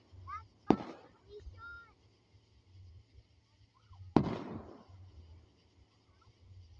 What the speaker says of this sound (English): like that's a lot of fireworks